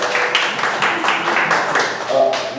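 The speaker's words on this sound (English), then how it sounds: "Give him a round of applause." An audience claps for a chiropractor being introduced on stage, a dense, steady wash of many hands close by that holds evenly from start to finish with no voices over it.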